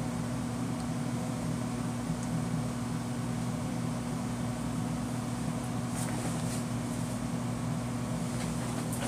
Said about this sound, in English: I need to turn that air conditioner off